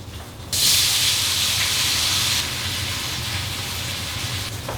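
Tofu sizzles in hot olive oil in a pan, a loud steady hiss that jumps in suddenly after a quiet start, then eases slightly but keeps crackling without pause to the end.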